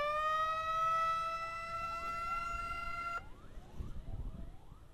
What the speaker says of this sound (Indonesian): Awas Bu, mobil ambulan nak lewat Bu.